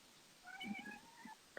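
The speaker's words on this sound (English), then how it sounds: "my cat's making a lot of noise" A house cat meows several times indoors, with drawn-out, wavering cries that rise and fall. The cat is fairly faint and sounds slightly distant, ending in a short sharp call.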